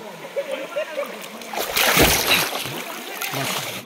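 People splash and slosh in cold stream water at a hidden waterfall spot in Goa, a burst of louder splashing building midway and continuing, with background voices faint throughout.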